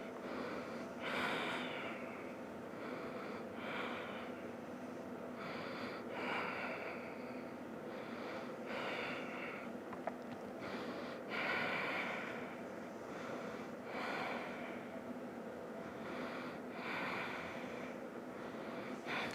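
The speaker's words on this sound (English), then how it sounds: "Let's deep breathe here now." Slow, deep breathing during an advanced vinyasa yoga flow, quiet inhales and exhales repeating in a steady rhythm of about eight breaths, close and soft with a faint hiss, no talking.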